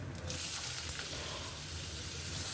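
Panch phoron spices and dry red chillies sizzle in hot oil, a loud steady crackling hiss that runs unbroken from start to finish, with no voices.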